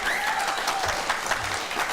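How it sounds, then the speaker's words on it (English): Studio audience applause on a daytime talk show, a brief, dense burst of clapping at close, even loudness with a faint voice calling out over it. "the audience clap for you too"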